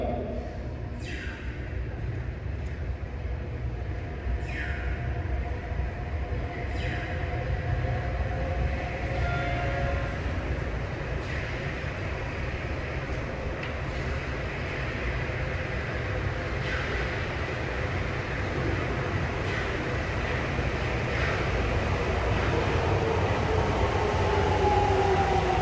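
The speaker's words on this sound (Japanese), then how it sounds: "まもなく1番ホームに真駒内行きが到着します。" A subway train bound for Makomanai rolls steadily into platform 1 at Asabu station, a continuous rumble and rail whine building slightly louder, with faint announcement chimes and station noise over it.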